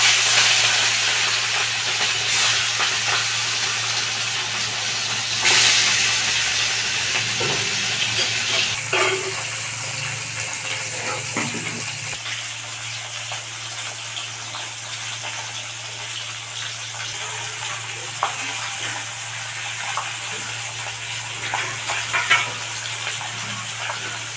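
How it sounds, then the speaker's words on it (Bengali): Salted, turmeric-coated rohu fish pieces frying in oil, a broad steady sizzle that flares and shifts as pieces go in, with occasional clinks and pops, close and continuous. "মাছে নুন হলুদ মাখানো আছে, মাছটা ভেজে দিই। একটা একটা করে মাছ ছেড়ে দিচ্ছি।"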